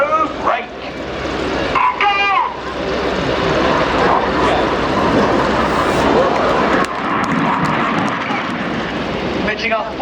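Red Arrows RAF jets roar overhead during the Gypo break at the Yeovilton air show, a loud sustained engine rush swelling and fading as they pass, with a commentator talking over it.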